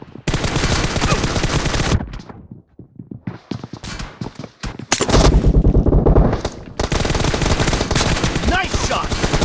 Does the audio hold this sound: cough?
no